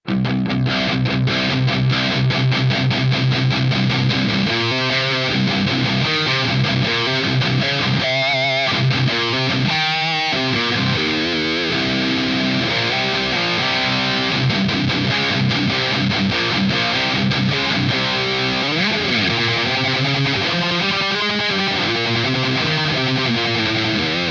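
Heavily distorted electric guitar through a high-gain Paul Reed Smith MT15 amp, sustained chords and bursts of riffing, loud and continuous with no talking.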